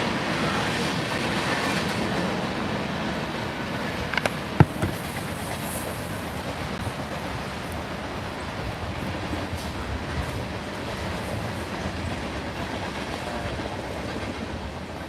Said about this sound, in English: I'll wait till the train goes too